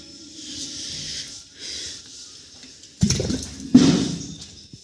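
Water splashed outside a house in the early morning after sweeping comes as hissing, sloshing bursts, two louder splashes near the end following softer pours.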